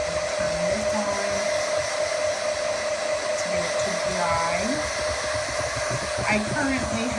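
A heat tool on low heat drying chalk paint on a craft bunny blows a steady, loud whirring hiss with a constant motor tone, close by and running without a break, with no talking over it.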